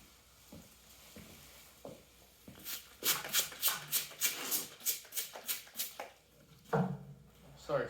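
Scissors cutting a paper pattern for engine shields, a fast run of crisp snipping cuts in the middle, with softer rustles and handling noises before and after, faint and close.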